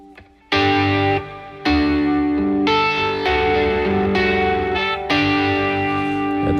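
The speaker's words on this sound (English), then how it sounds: "now we'll add in the big reverb," Big ambient reverb from a Mood pedal swells around sustained chord pads, with several chord changes blurring into a long, washy tail that keeps ringing between notes.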